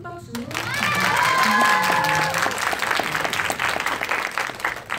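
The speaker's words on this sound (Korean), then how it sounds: "다시 한번 큰 박수!" A live audience at a Korean online broadcast event bursts into sustained applause, many hands clapping steadily and close, with a voice carrying over the start.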